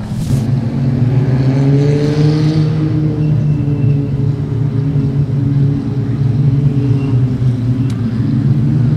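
Production sedan race cars rev at Kingaroy Speedway, a loud continuous roar of several engines with harmonic tones rising and falling steadily across the whole stretch, no voices over it.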